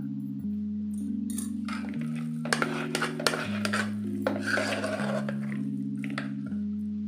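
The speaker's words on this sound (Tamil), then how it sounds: "மேஷரால் இப்படி நல்லா வெண்ணையாக அமைக்கிங்க இப்போ சாதம் நல்லா மசிச்சுட்டா" Cooked rice is mashed in a pot with a masher for curd rice (bagalabath): repeated clinks and scraping of metal against the vessel, close and fairly steady, under continuous background music.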